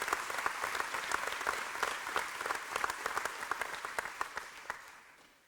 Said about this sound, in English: How about a round of applause for our Phi Theta Kappa and also Sarah.